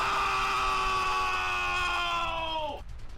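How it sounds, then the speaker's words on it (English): A man's drawn-out scream in a played soundbite, loud and sustained for nearly three seconds with a strained, wavering pitch, cutting off abruptly into quiet room noise. "Man, that was screaming."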